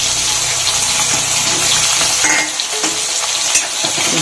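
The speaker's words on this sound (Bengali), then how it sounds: "এখন ফোড়নে কালো সর্ষে আর জিরে দিয়ে দিলাম, আর কারি পাতা দিয়ে দিলাম" Black mustard seeds, cumin, curry leaves and chopped onion frying in hot oil, a loud, dense, continuous sizzle close by with occasional pops and light stirring.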